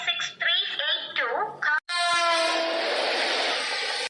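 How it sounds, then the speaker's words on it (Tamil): A cartoon train pulls into a station: excited voices chatter at first, then a loud, sustained train horn blares continuously, close and dominant, for the rest of the moment. "அண்ணா வருது நம்ம ட்ரெயின்."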